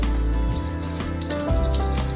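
A potato and egg breakfast snack fries in a pan, giving a steady close sizzle over a low hum, with small bubbling pops throughout.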